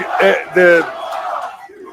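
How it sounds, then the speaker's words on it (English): Wrestling arena crowd at John Cena's final match roars in two loud surges of shouting, then settles into a lower sustained rumble of jeers. "Listen to the crowd here. They were not having it at all."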